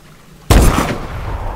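A single loud, close gunshot burst in Call of Duty: Advanced Warfare cracks after a quiet moment and leaves a booming tail of rumble and echo.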